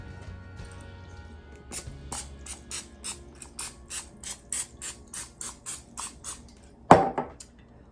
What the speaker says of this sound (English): take my can of nonstick spray and just spray a little bit on the top of each one